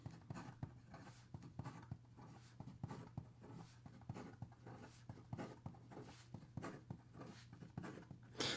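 A Delta DV Original Midsize fountain pen writes quickly across paper, making a soft, slightly scratchy rhythm of close nib strokes and short pauses over a faint low hum.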